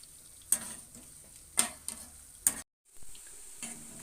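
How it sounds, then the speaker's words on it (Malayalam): Food fries gently in a pan over a low flame, a faint steady sizzle broken by three or four sharp taps of a spoon stirring against the pan. "ലോ ഫ്ലെയിമിൽ ഇട്ട് നന്നായിട്ടൊന്ന് നമുക്കൊന്ന് ഫ്രൈ ചെയ്തെടുക്കാം."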